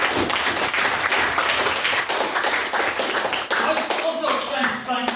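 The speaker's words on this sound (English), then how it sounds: "so I think they deserve a round of applause" Audience applause at a school debating competition, dense continuous clapping for the whole stretch, fairly loud and close.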